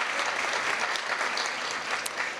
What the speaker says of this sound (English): Let's give our Mistress of Ceremonies, Samantha Latshaw, another great big round of applause.